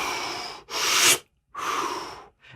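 Airy, breathy whooshes from concertina bellows squeezed with no keys pressed, recorded in stereo; two main pushes of hissing air separated by a short silence, with a faint tail at the end.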